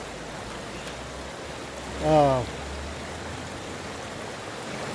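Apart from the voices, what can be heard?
water flowing through a sluice box in a river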